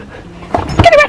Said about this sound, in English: she's a good dog